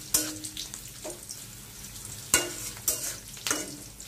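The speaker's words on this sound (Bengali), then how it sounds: "পেস্টটা একটু ভাজা ভাজা করে নিতেছি" Spice paste fries in a pan with a low, steady sizzle, while a utensil scrapes and stirs in several sharp strokes spaced across the moment.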